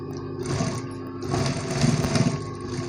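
A sewing machine stitching a blouse runs in a fast, continuous mechanical whir with a rapid needle rhythm, close and loud, speeding up slightly partway through.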